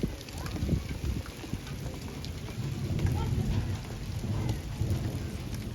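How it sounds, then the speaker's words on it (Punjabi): Rain falls in a village while the sun shines nearby, a steady close hiss of drops hitting surfaces with low rumbling swells underneath, no voices. "ਇੱਕ ਪਾਸੇ ਤੇ ਲੱਗੀ ਆ ਧੁੱਪ ਤੇ ਇੱਧਰ ਪੈ ਰਹੀ ਆ ਬਾਰਿਸ਼"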